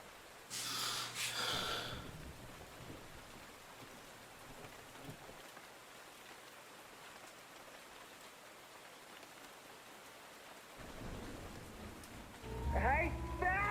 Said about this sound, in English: Victorian rain and bells.